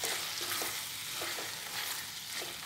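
A capsicum stir-fry with peanut powder and MTR garam masala is stirred in a sizzling pan, with faint, repeated scraping strokes over a soft, constant frying hiss.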